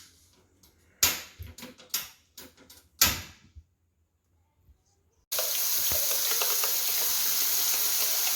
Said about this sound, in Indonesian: Selanjutnya kita tumis, tambah minyak sedikit.